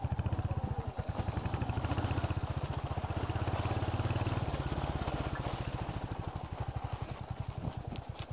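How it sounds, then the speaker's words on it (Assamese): A Royal Enfield motorcycle is ridden on a Republic Day group ride in Nagaon, Assam. Its engine gives an even, thumping pulse that continues throughout at moderate loudness, easing off slightly near the end. "এতিয়া তাৰ ভিতৰত অলপমান বাইকখন সোমোৱাই চাওঁ"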